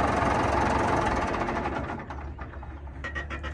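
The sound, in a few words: Ford 7630 tractor engine running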